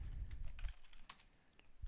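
Typing on a computer keyboard is heard as a few faint, sparse key clicks over a low rumble in a quiet room.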